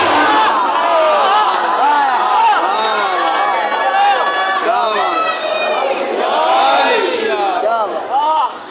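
Large crowd at a Muharram majlis in Multan chanting religious slogans, loud massed voices rising and falling in repeated call-like shouts throughout.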